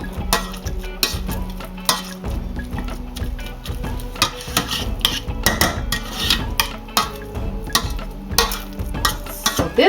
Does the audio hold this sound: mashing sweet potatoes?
yes